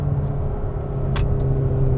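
A McLaren GT engine accelerates with a deep, sustained rumble that builds slightly, heard close and loud.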